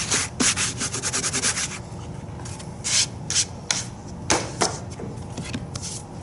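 Paper being rubbed with a baren over an inked, carved woodblock in Japanese mokuhanga printmaking, a close, continuous rhythmic scraping with repeated short sweeping strokes, no voices.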